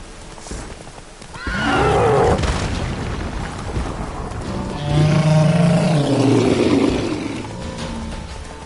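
Roach the horse in The Witcher 3 whinnies loudly and close, two drawn-out neighs with hoof clatter and wind-like game ambience between them.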